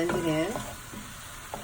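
Close stirring and gentle sizzling in a pan as vegan butter is blended into mushroom gravy, with a brief tonal squeak at the start and soft scraping throughout.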